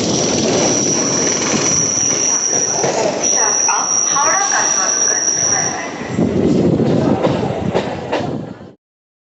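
A Howrah–Barddhaman chord line local train runs near Liluah, filling the scene with loud, continuous rumble and wheel-on-rail noise plus a steady high metallic squeal. It swells again after a brief dip and stops abruptly.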